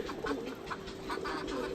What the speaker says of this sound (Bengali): আমার মুরগি আমার সামনে কড়কড় করতেছে